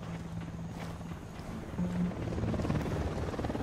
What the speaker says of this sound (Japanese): ユニダットのヘリが巡回してる。